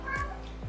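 A pet cat gives two short meows close by, each a brief rising and falling cry, with quiet room background between them.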